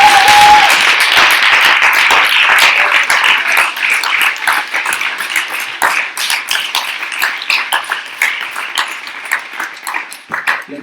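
An audience at an NP Vienna 2020 gathering claps in sustained applause that starts dense and loud, then thins into scattered, separate claps as it fades toward the end.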